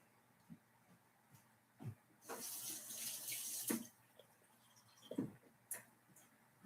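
Water running from a tap and splashing into a bowl holding mashed banana and cinnamon for dog-safe waffles, a steady pour lasting about a second and a half between a few faint knocks and clatters.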